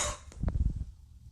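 A person in a bout of coughing gives a short burst of muffled, low coughs in quick succession, fairly faint and close, after a brief breathy sound at the start, with no speech.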